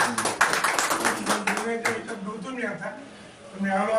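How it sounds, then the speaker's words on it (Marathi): A crowd applauds to welcome an arriving guest at a Gurav community death-anniversary gathering for saint Kashiba Maharaj in Parbhani. Brisk clapping fills the first half, then fades as someone speaks over it. "त्यावर टाळ्या वाजून त्यांचं स्वागत"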